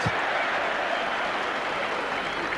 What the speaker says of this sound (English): he's been cheered for being tackled on this pitch, Peter.